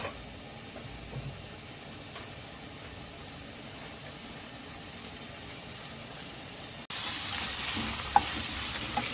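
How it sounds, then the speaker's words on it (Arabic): Shrimp sizzle steadily in hot oil in a pan for a paella, a close, continuous hiss with soft crackles that grows noticeably louder toward the end. "غنديرو شوية زيت غنسخنو، غندوزو الكروفيت غندوزو واحد دقيقة في العافية"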